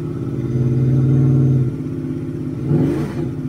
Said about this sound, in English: if I flip the throttle